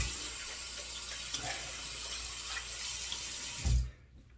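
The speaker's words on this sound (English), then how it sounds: "Wash the hands." Tap water runs steadily into a sink while hands are washed, a continuous close splashing flow that stops abruptly near the end.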